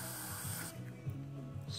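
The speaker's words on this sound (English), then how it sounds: "now spray some carburetor cleaner" Aerosol carburetor cleaner sprays onto a Suzuki RM 125 carburetor part, a short close hiss lasting under a second before fading into quiet handling noise.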